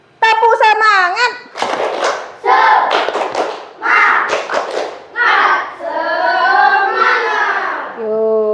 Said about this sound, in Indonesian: sebelum nonton video coba tepuk semangat